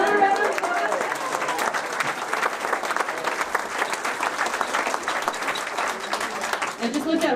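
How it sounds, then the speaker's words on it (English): An audience at an award ceremony claps in a sustained, dense round of applause, with voices mixed in and a cheer near the end. "Can we give another round of applause?"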